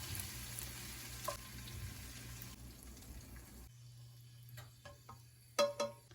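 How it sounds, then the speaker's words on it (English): Sausage meat frying in a pan, a faint steady sizzle that drops away partway, followed by a few soft scrapes and clinks of stirring. "Just cooking this until there's no pink left, no pink remains. Fried up sausage meat in there."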